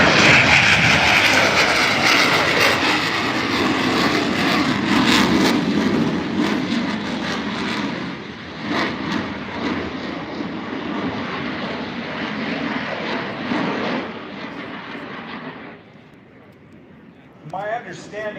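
A fixed-wing airplane at an airshow roars loudly overhead, its engine drone swelling and then fading into the distance, with a commentator's voice over the noise.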